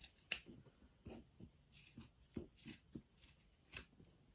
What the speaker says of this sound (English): chop the fringe about here.